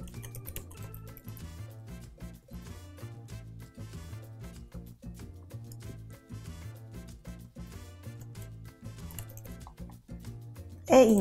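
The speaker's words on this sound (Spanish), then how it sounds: "Digitamos la contraseña." Keys click softly on a computer keyboard as a password is entered at a login screen, faint, irregular taps under steady background music, with a brief louder sound right at the end.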